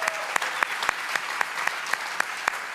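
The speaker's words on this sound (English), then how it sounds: "let's give them a round of applause one more time" An audience at a LevelUp Day 2023 conference applauds in a steady, dense wash of clapping, with a few sharper claps standing out at a regular beat and no speech over it.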